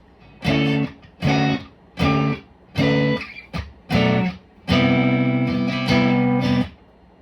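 Effected electric guitar plays a choppy riff of five short stabs, then two sustained shimmering chords ringing out, solo without speech.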